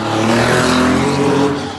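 A Porsche 911R engine pulls hard while driving, a loud, steady, full-bodied roar that stays dense and unbroken throughout, with no voices over it.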